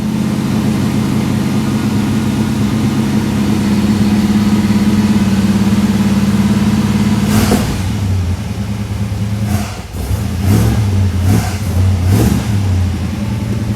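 A 1964 Chevrolet Malibu SS V8 with a freshly repaired choke runs steadily up close, its low rumble shifting around seven seconds into a series of short throttle blips and revs before settling back.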